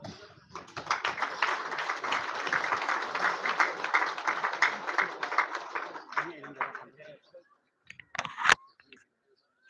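An audience at a naval course graduation ceremony claps for several seconds at moderate distance, then the applause fades out, followed by a few scattered clicks and handling noises.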